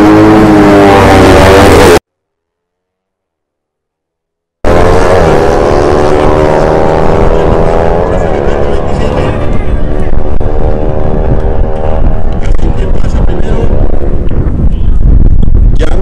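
Kawasaki Ninja 400 motorcycle ridden by a woman launching at a drag race start line in Barranquilla, a loud, steady engine roar with rising harmonic tones after a brief dropout, crowd noise and wind behind it.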